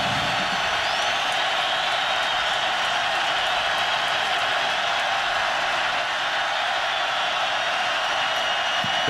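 A stadium crowd roars steadily at a college football game in Lubbock, Texas Tech hosting Texas late in the third quarter, a dense, continuous wash of distant cheering that holds without a break.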